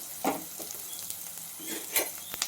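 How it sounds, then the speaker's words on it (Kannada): Finely chopped onions fry in a pan for an avarekalu masala, a soft close sizzle with a few quick scraping stir strokes over a short stretch, no speech. "ಈರುಳ್ಳಿ ಹಾಕ್ತಾಯಿದ್ದೀನಿ, ಸಣ್ಣಗೆ ಹಚ್ಕೊಂಡಿರೋದು ಈರುಳ್ಳಿ"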